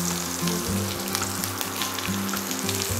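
Capsicum and onion fry in a little oil in a pan, giving a steady, close sizzle with soft stirring and scraping throughout and no voices.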